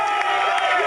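A crowd cheers and whoops for marathon runners climbing Heartbreak Hill during the Boston Marathon, a short burst of continuous distant shouting.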